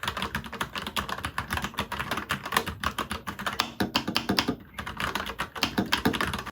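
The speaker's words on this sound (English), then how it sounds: "I found the RK96 pretty quiet compared to other gaming keyboards that I've used even during intense gaming" Fast, continuous typing on a Royal Kludge RK96 mechanical gaming keyboard, its dense, soft, muted key clacks running steadily and close up with no pauses.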